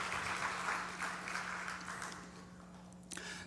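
A church congregation claps in encouragement for the young adults, a moderate round of applause that gradually thins and fades, with a steady low hum underneath.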